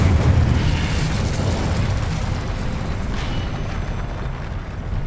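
Fiery explosion from the Incendio fire spell in Hogwarts Legacy during an arena fight: a heavy, loud boom at the start that rolls into a sustained crackling, roaring blast lasting several seconds.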